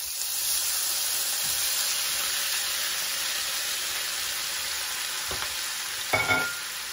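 Shrimp and scallops soaked in lemon sizzle in butter with garlic in a pan over low heat, a steady close, dense frying hiss with a couple of brief stirring clatters near the end.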